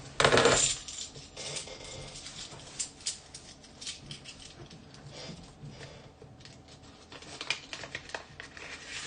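Silver coins clink and jingle as they are handled and stacked for wrapping, with a loud metallic shower at the start followed by steady, close clinks and rustles and no talking.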